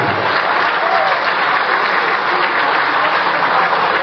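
Sustained audience applause fills a charity fundraising dinner at Old Trafford, a dense, steady wash of clapping from a large crowd that holds at an even, fairly loud level for the whole stretch.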